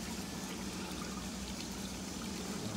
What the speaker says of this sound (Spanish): El agua cae por aquí